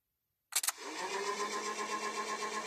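An electric motor powered by a 12-volt battery starts with a couple of sharp clicks as it connects, then spins up into a steady, close whirring hum that holds even and continuous with no voices.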